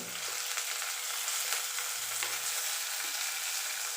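Mustard seeds, ginger and green chili fry in hot oil in a pan, giving a steady, close, bright sizzle with light crackling pops and stirring throughout, with no voices.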